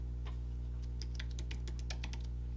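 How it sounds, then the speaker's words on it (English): A password being typed on a computer keyboard: a quick run of light, close key clicks in an uneven rhythm over a constant low electrical hum. "You're going to type in the password"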